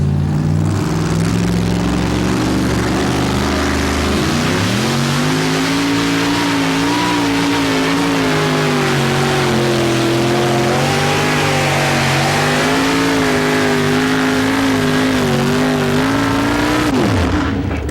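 A funny car engine screams through a pulling run at a 1987 truck and tractor pull in Fort Wayne, loud and sustained, its pitch climbing after a few seconds and holding at full throttle before cutting off abruptly near the end.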